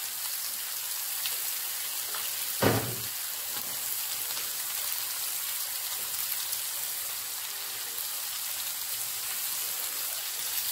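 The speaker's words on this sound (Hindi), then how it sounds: "अब मैंने इधर इसे भूनना है अच्छे से" Chicken pieces fry in a pan for achar gosht, a faint, steady, rain-like sizzle that runs throughout, broken once by a short, sharp clatter near the start.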